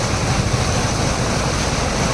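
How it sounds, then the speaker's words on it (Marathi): Water gushes from a leaking pipeline in Kolhapur, a loud, steady rush without a break, a dense continuous roar with no voices. "एवढ्या प्रकारचं पाणी इथनं फ्लो होतं आहे"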